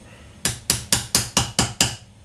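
An old bit struck with pliers as a makeshift hammer gives seven sharp, evenly spaced metallic taps, close and fairly loud, with a brief ring after each one and no talk.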